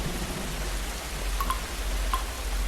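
Heavy rain falls steadily as a constant broadband wash, with a few faint drips or taps standing out briefly.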